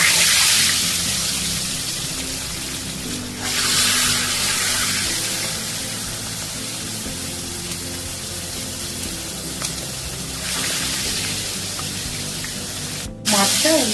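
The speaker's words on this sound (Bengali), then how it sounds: "তেল গরম হয়ে গেছে, এবার আমি মাছগুলো ভেজে নেব।" Salted fish pieces fry in hot oil in a kadai, making a loud, steady, hissing sizzle that runs throughout with only slight swells, while a voice speaks faintly beneath it.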